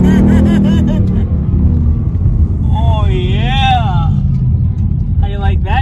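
Inside a Ford Mustang GT on the move, a steady low engine and road rumble runs throughout, with people talking loudly over it in the cabin.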